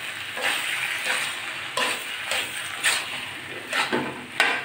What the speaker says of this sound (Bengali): আমি আরও 1 মিনিট মতো নাড়াচাড়া করে নামিয়ে নেব বন্ধুরা